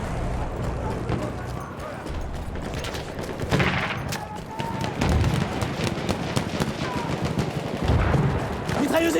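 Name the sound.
enemy machine gun fire in Battlefield 1 video game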